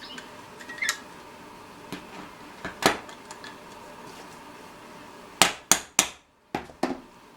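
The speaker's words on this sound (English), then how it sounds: "Tapping it also drives the aluminum down tight, where it might have a tendency to swell up in between rivets." Aluminum rivets in a 1932 coupe car frame are tapped down with a hammer, sparse light metallic taps early on, then a quick cluster of five sharper, louder strikes near the end.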